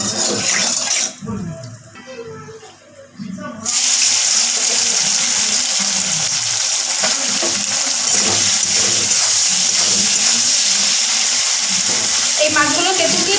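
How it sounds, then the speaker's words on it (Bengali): River fish frying in hot salted oil in a wok: after a few seconds of quieter clatter, a loud, steady sizzle bursts in and holds without a break. "তো চলো মাছগুলো ভেজে নিই"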